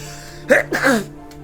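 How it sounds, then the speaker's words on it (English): A single short sneeze, a quick sharp intake followed by an explosive burst, close to the microphone, over faint background hum. "Sneeze."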